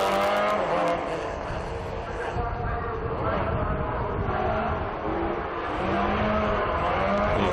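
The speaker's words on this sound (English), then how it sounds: "away goes the Grosso Rent car" Historic race car of the Grosso Rent team accelerating away at Estoril, its engine roaring steadily and loudly throughout, with a commentator talking over it.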